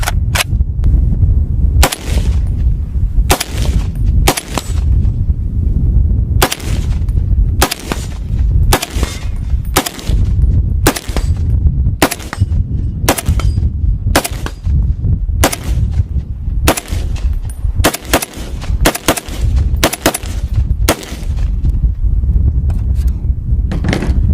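A large-calibre rifle fires round after round at a steady pace, each loud, sharp shot close by with brief gaps between, about twenty in all.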